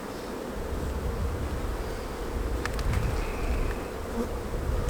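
Honey bees swarm and buzz around an opened hive in a dense, steady drone that lasts the whole span, with a few louder passes close by.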